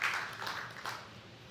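Church congregation applauding during a Good Friday service, a steady wash of clapping that swells at the start and again near the end of a short burst, fairly loud and close.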